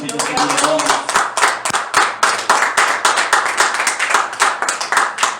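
A church congregation claps in a steady, fast rhythm during a service, the sharp, loud hand claps repeating evenly throughout, with voices mixed in beneath them.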